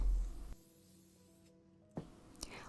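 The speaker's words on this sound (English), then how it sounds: "Next, it was time to spray paint." A short hiss of spray from an aerosol can, then a pause and another quick burst, close up with no talking.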